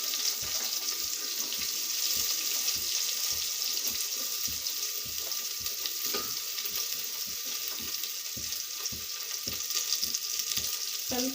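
Onions and mustard seeds sizzling in hot oil for a tempering, a steady close frying hiss broken by small crackles and occasional stirring clinks, with no voices.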